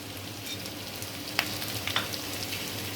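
Capsicum fries in a chilli paneer sauce, giving a gentle steady sizzle close by, with two quick clinks of a spoon against the pan partway through.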